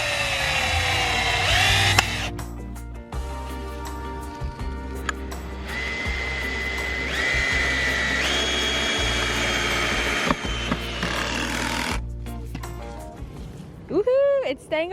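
Power drill driving screws into wood for a garden structure, a steady close whirring that runs nearly throughout with brief pauses and shifts in pitch.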